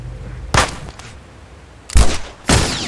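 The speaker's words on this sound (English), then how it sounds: "I can shoot that guy in the end" Gunshots in The Last of Us Remastered: three sharp, loud reports spaced apart, one isolated shot followed after a pause by two more close together, each with a short echoing tail over quiet background.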